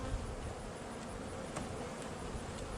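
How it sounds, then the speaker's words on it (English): Honey bees swarm around an open beehive, giving a steady, dense buzzing drone that fills the whole stretch without pause, with no voices over it. "there's a fair amount of bees there"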